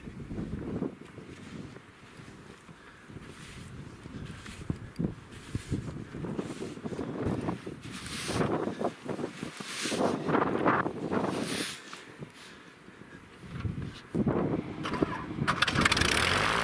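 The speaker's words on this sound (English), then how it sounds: "the wind's messing with us too" Wind buffets the microphone in gusty, uneven rumbling bursts during winter flying with a Zenith STOL SkyJeep on snow skis, with a steady engine drone beneath the noise throughout.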